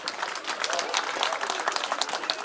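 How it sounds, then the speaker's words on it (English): Applause for a Pacific drum and hula group led by Jacob Sansom at a show, a steady wash of many hands clapping together, sustained and fairly even, with an emcee's voice mixed into the crowd noise. "Another round of applause to Jacob Sansom and the group"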